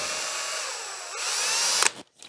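A power drill pre-drills into hardwood for a grain samples display, a steady high whine for nearly two seconds before stopping, followed by a brief short burst.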